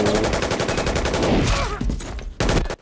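Rapid bursts of gunfire from the battle in The Avengers (2012), loud and dense with clustered shots, a brief lull and then a final burst near the end.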